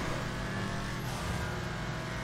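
A Vapid Dominator ASP car in GTA 5 Online drives hard, its engine roaring steadily and loudly throughout with a dense, continuous revving drone and no talk.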